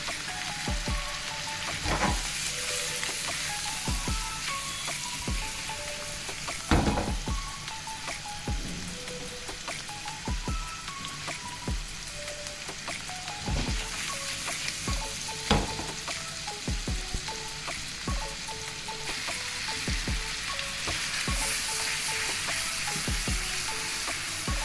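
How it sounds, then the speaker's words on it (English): Prawns frying in melted butter with garlic, a continuous close sizzle with scattered crackles and occasional stirring knocks, like rain on a surface, and no talking. "As your butter is melting, let the garlic not get fried a lot. Let's add in our prawns."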